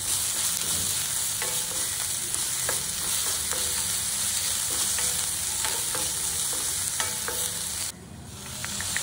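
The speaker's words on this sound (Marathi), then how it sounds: "आता इथं आपण टाकलेलं आहे आलं, लसूण आणि हिरवी मिरचीची पेस्ट।" A paste of ginger, garlic and green chilli sizzles loudly and continuously in a hot pan, with a spoon scraping and stirring now and then, before the hiss drops suddenly near the end.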